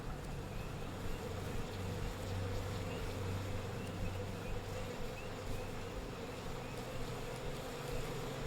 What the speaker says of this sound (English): I'm gonna need some sort of padded suit, or these bees are gonna kill me.